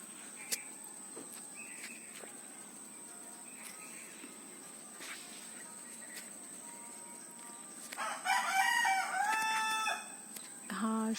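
Domestic chickens and a rooster in a rural yard. A rooster crows loudly near the end over faint clucks, crickets and a steady high insect whine in a quiet outdoor setting.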